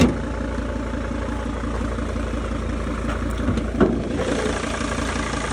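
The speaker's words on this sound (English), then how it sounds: "here's the engine" A 2005 Dodge Sprinter van's diesel engine idles with the hood open, a steady close rumble with a faint rhythmic knock, a brief clunk partway through, and no talking.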